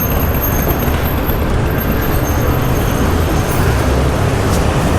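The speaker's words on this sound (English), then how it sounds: "Nice truck." Heavy city street traffic with a truck driving past, a loud continuous roadway rumble and hiss throughout, with no clear speech.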